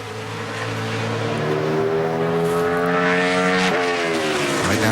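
A NASCAR Sprint Cup stock car on a qualifying lap at Richmond, its engine a loud, sustained roar whose pitch climbs through the lap and dips briefly near the end, heard from trackside without talk.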